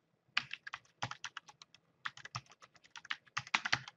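A domain name typed on a computer keyboard: crisp, close clusters of key clicks in three quick bursts separated by short pauses, with no talking over them.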